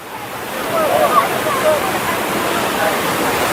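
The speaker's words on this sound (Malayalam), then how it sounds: "നല്ല ഇടിച്ച് കുത്തി വരുന്ന വെള്ളം" Steady rushing water fills the scene, a broad close roar of a fast stream near Munnar with no pauses, loud and continuous throughout.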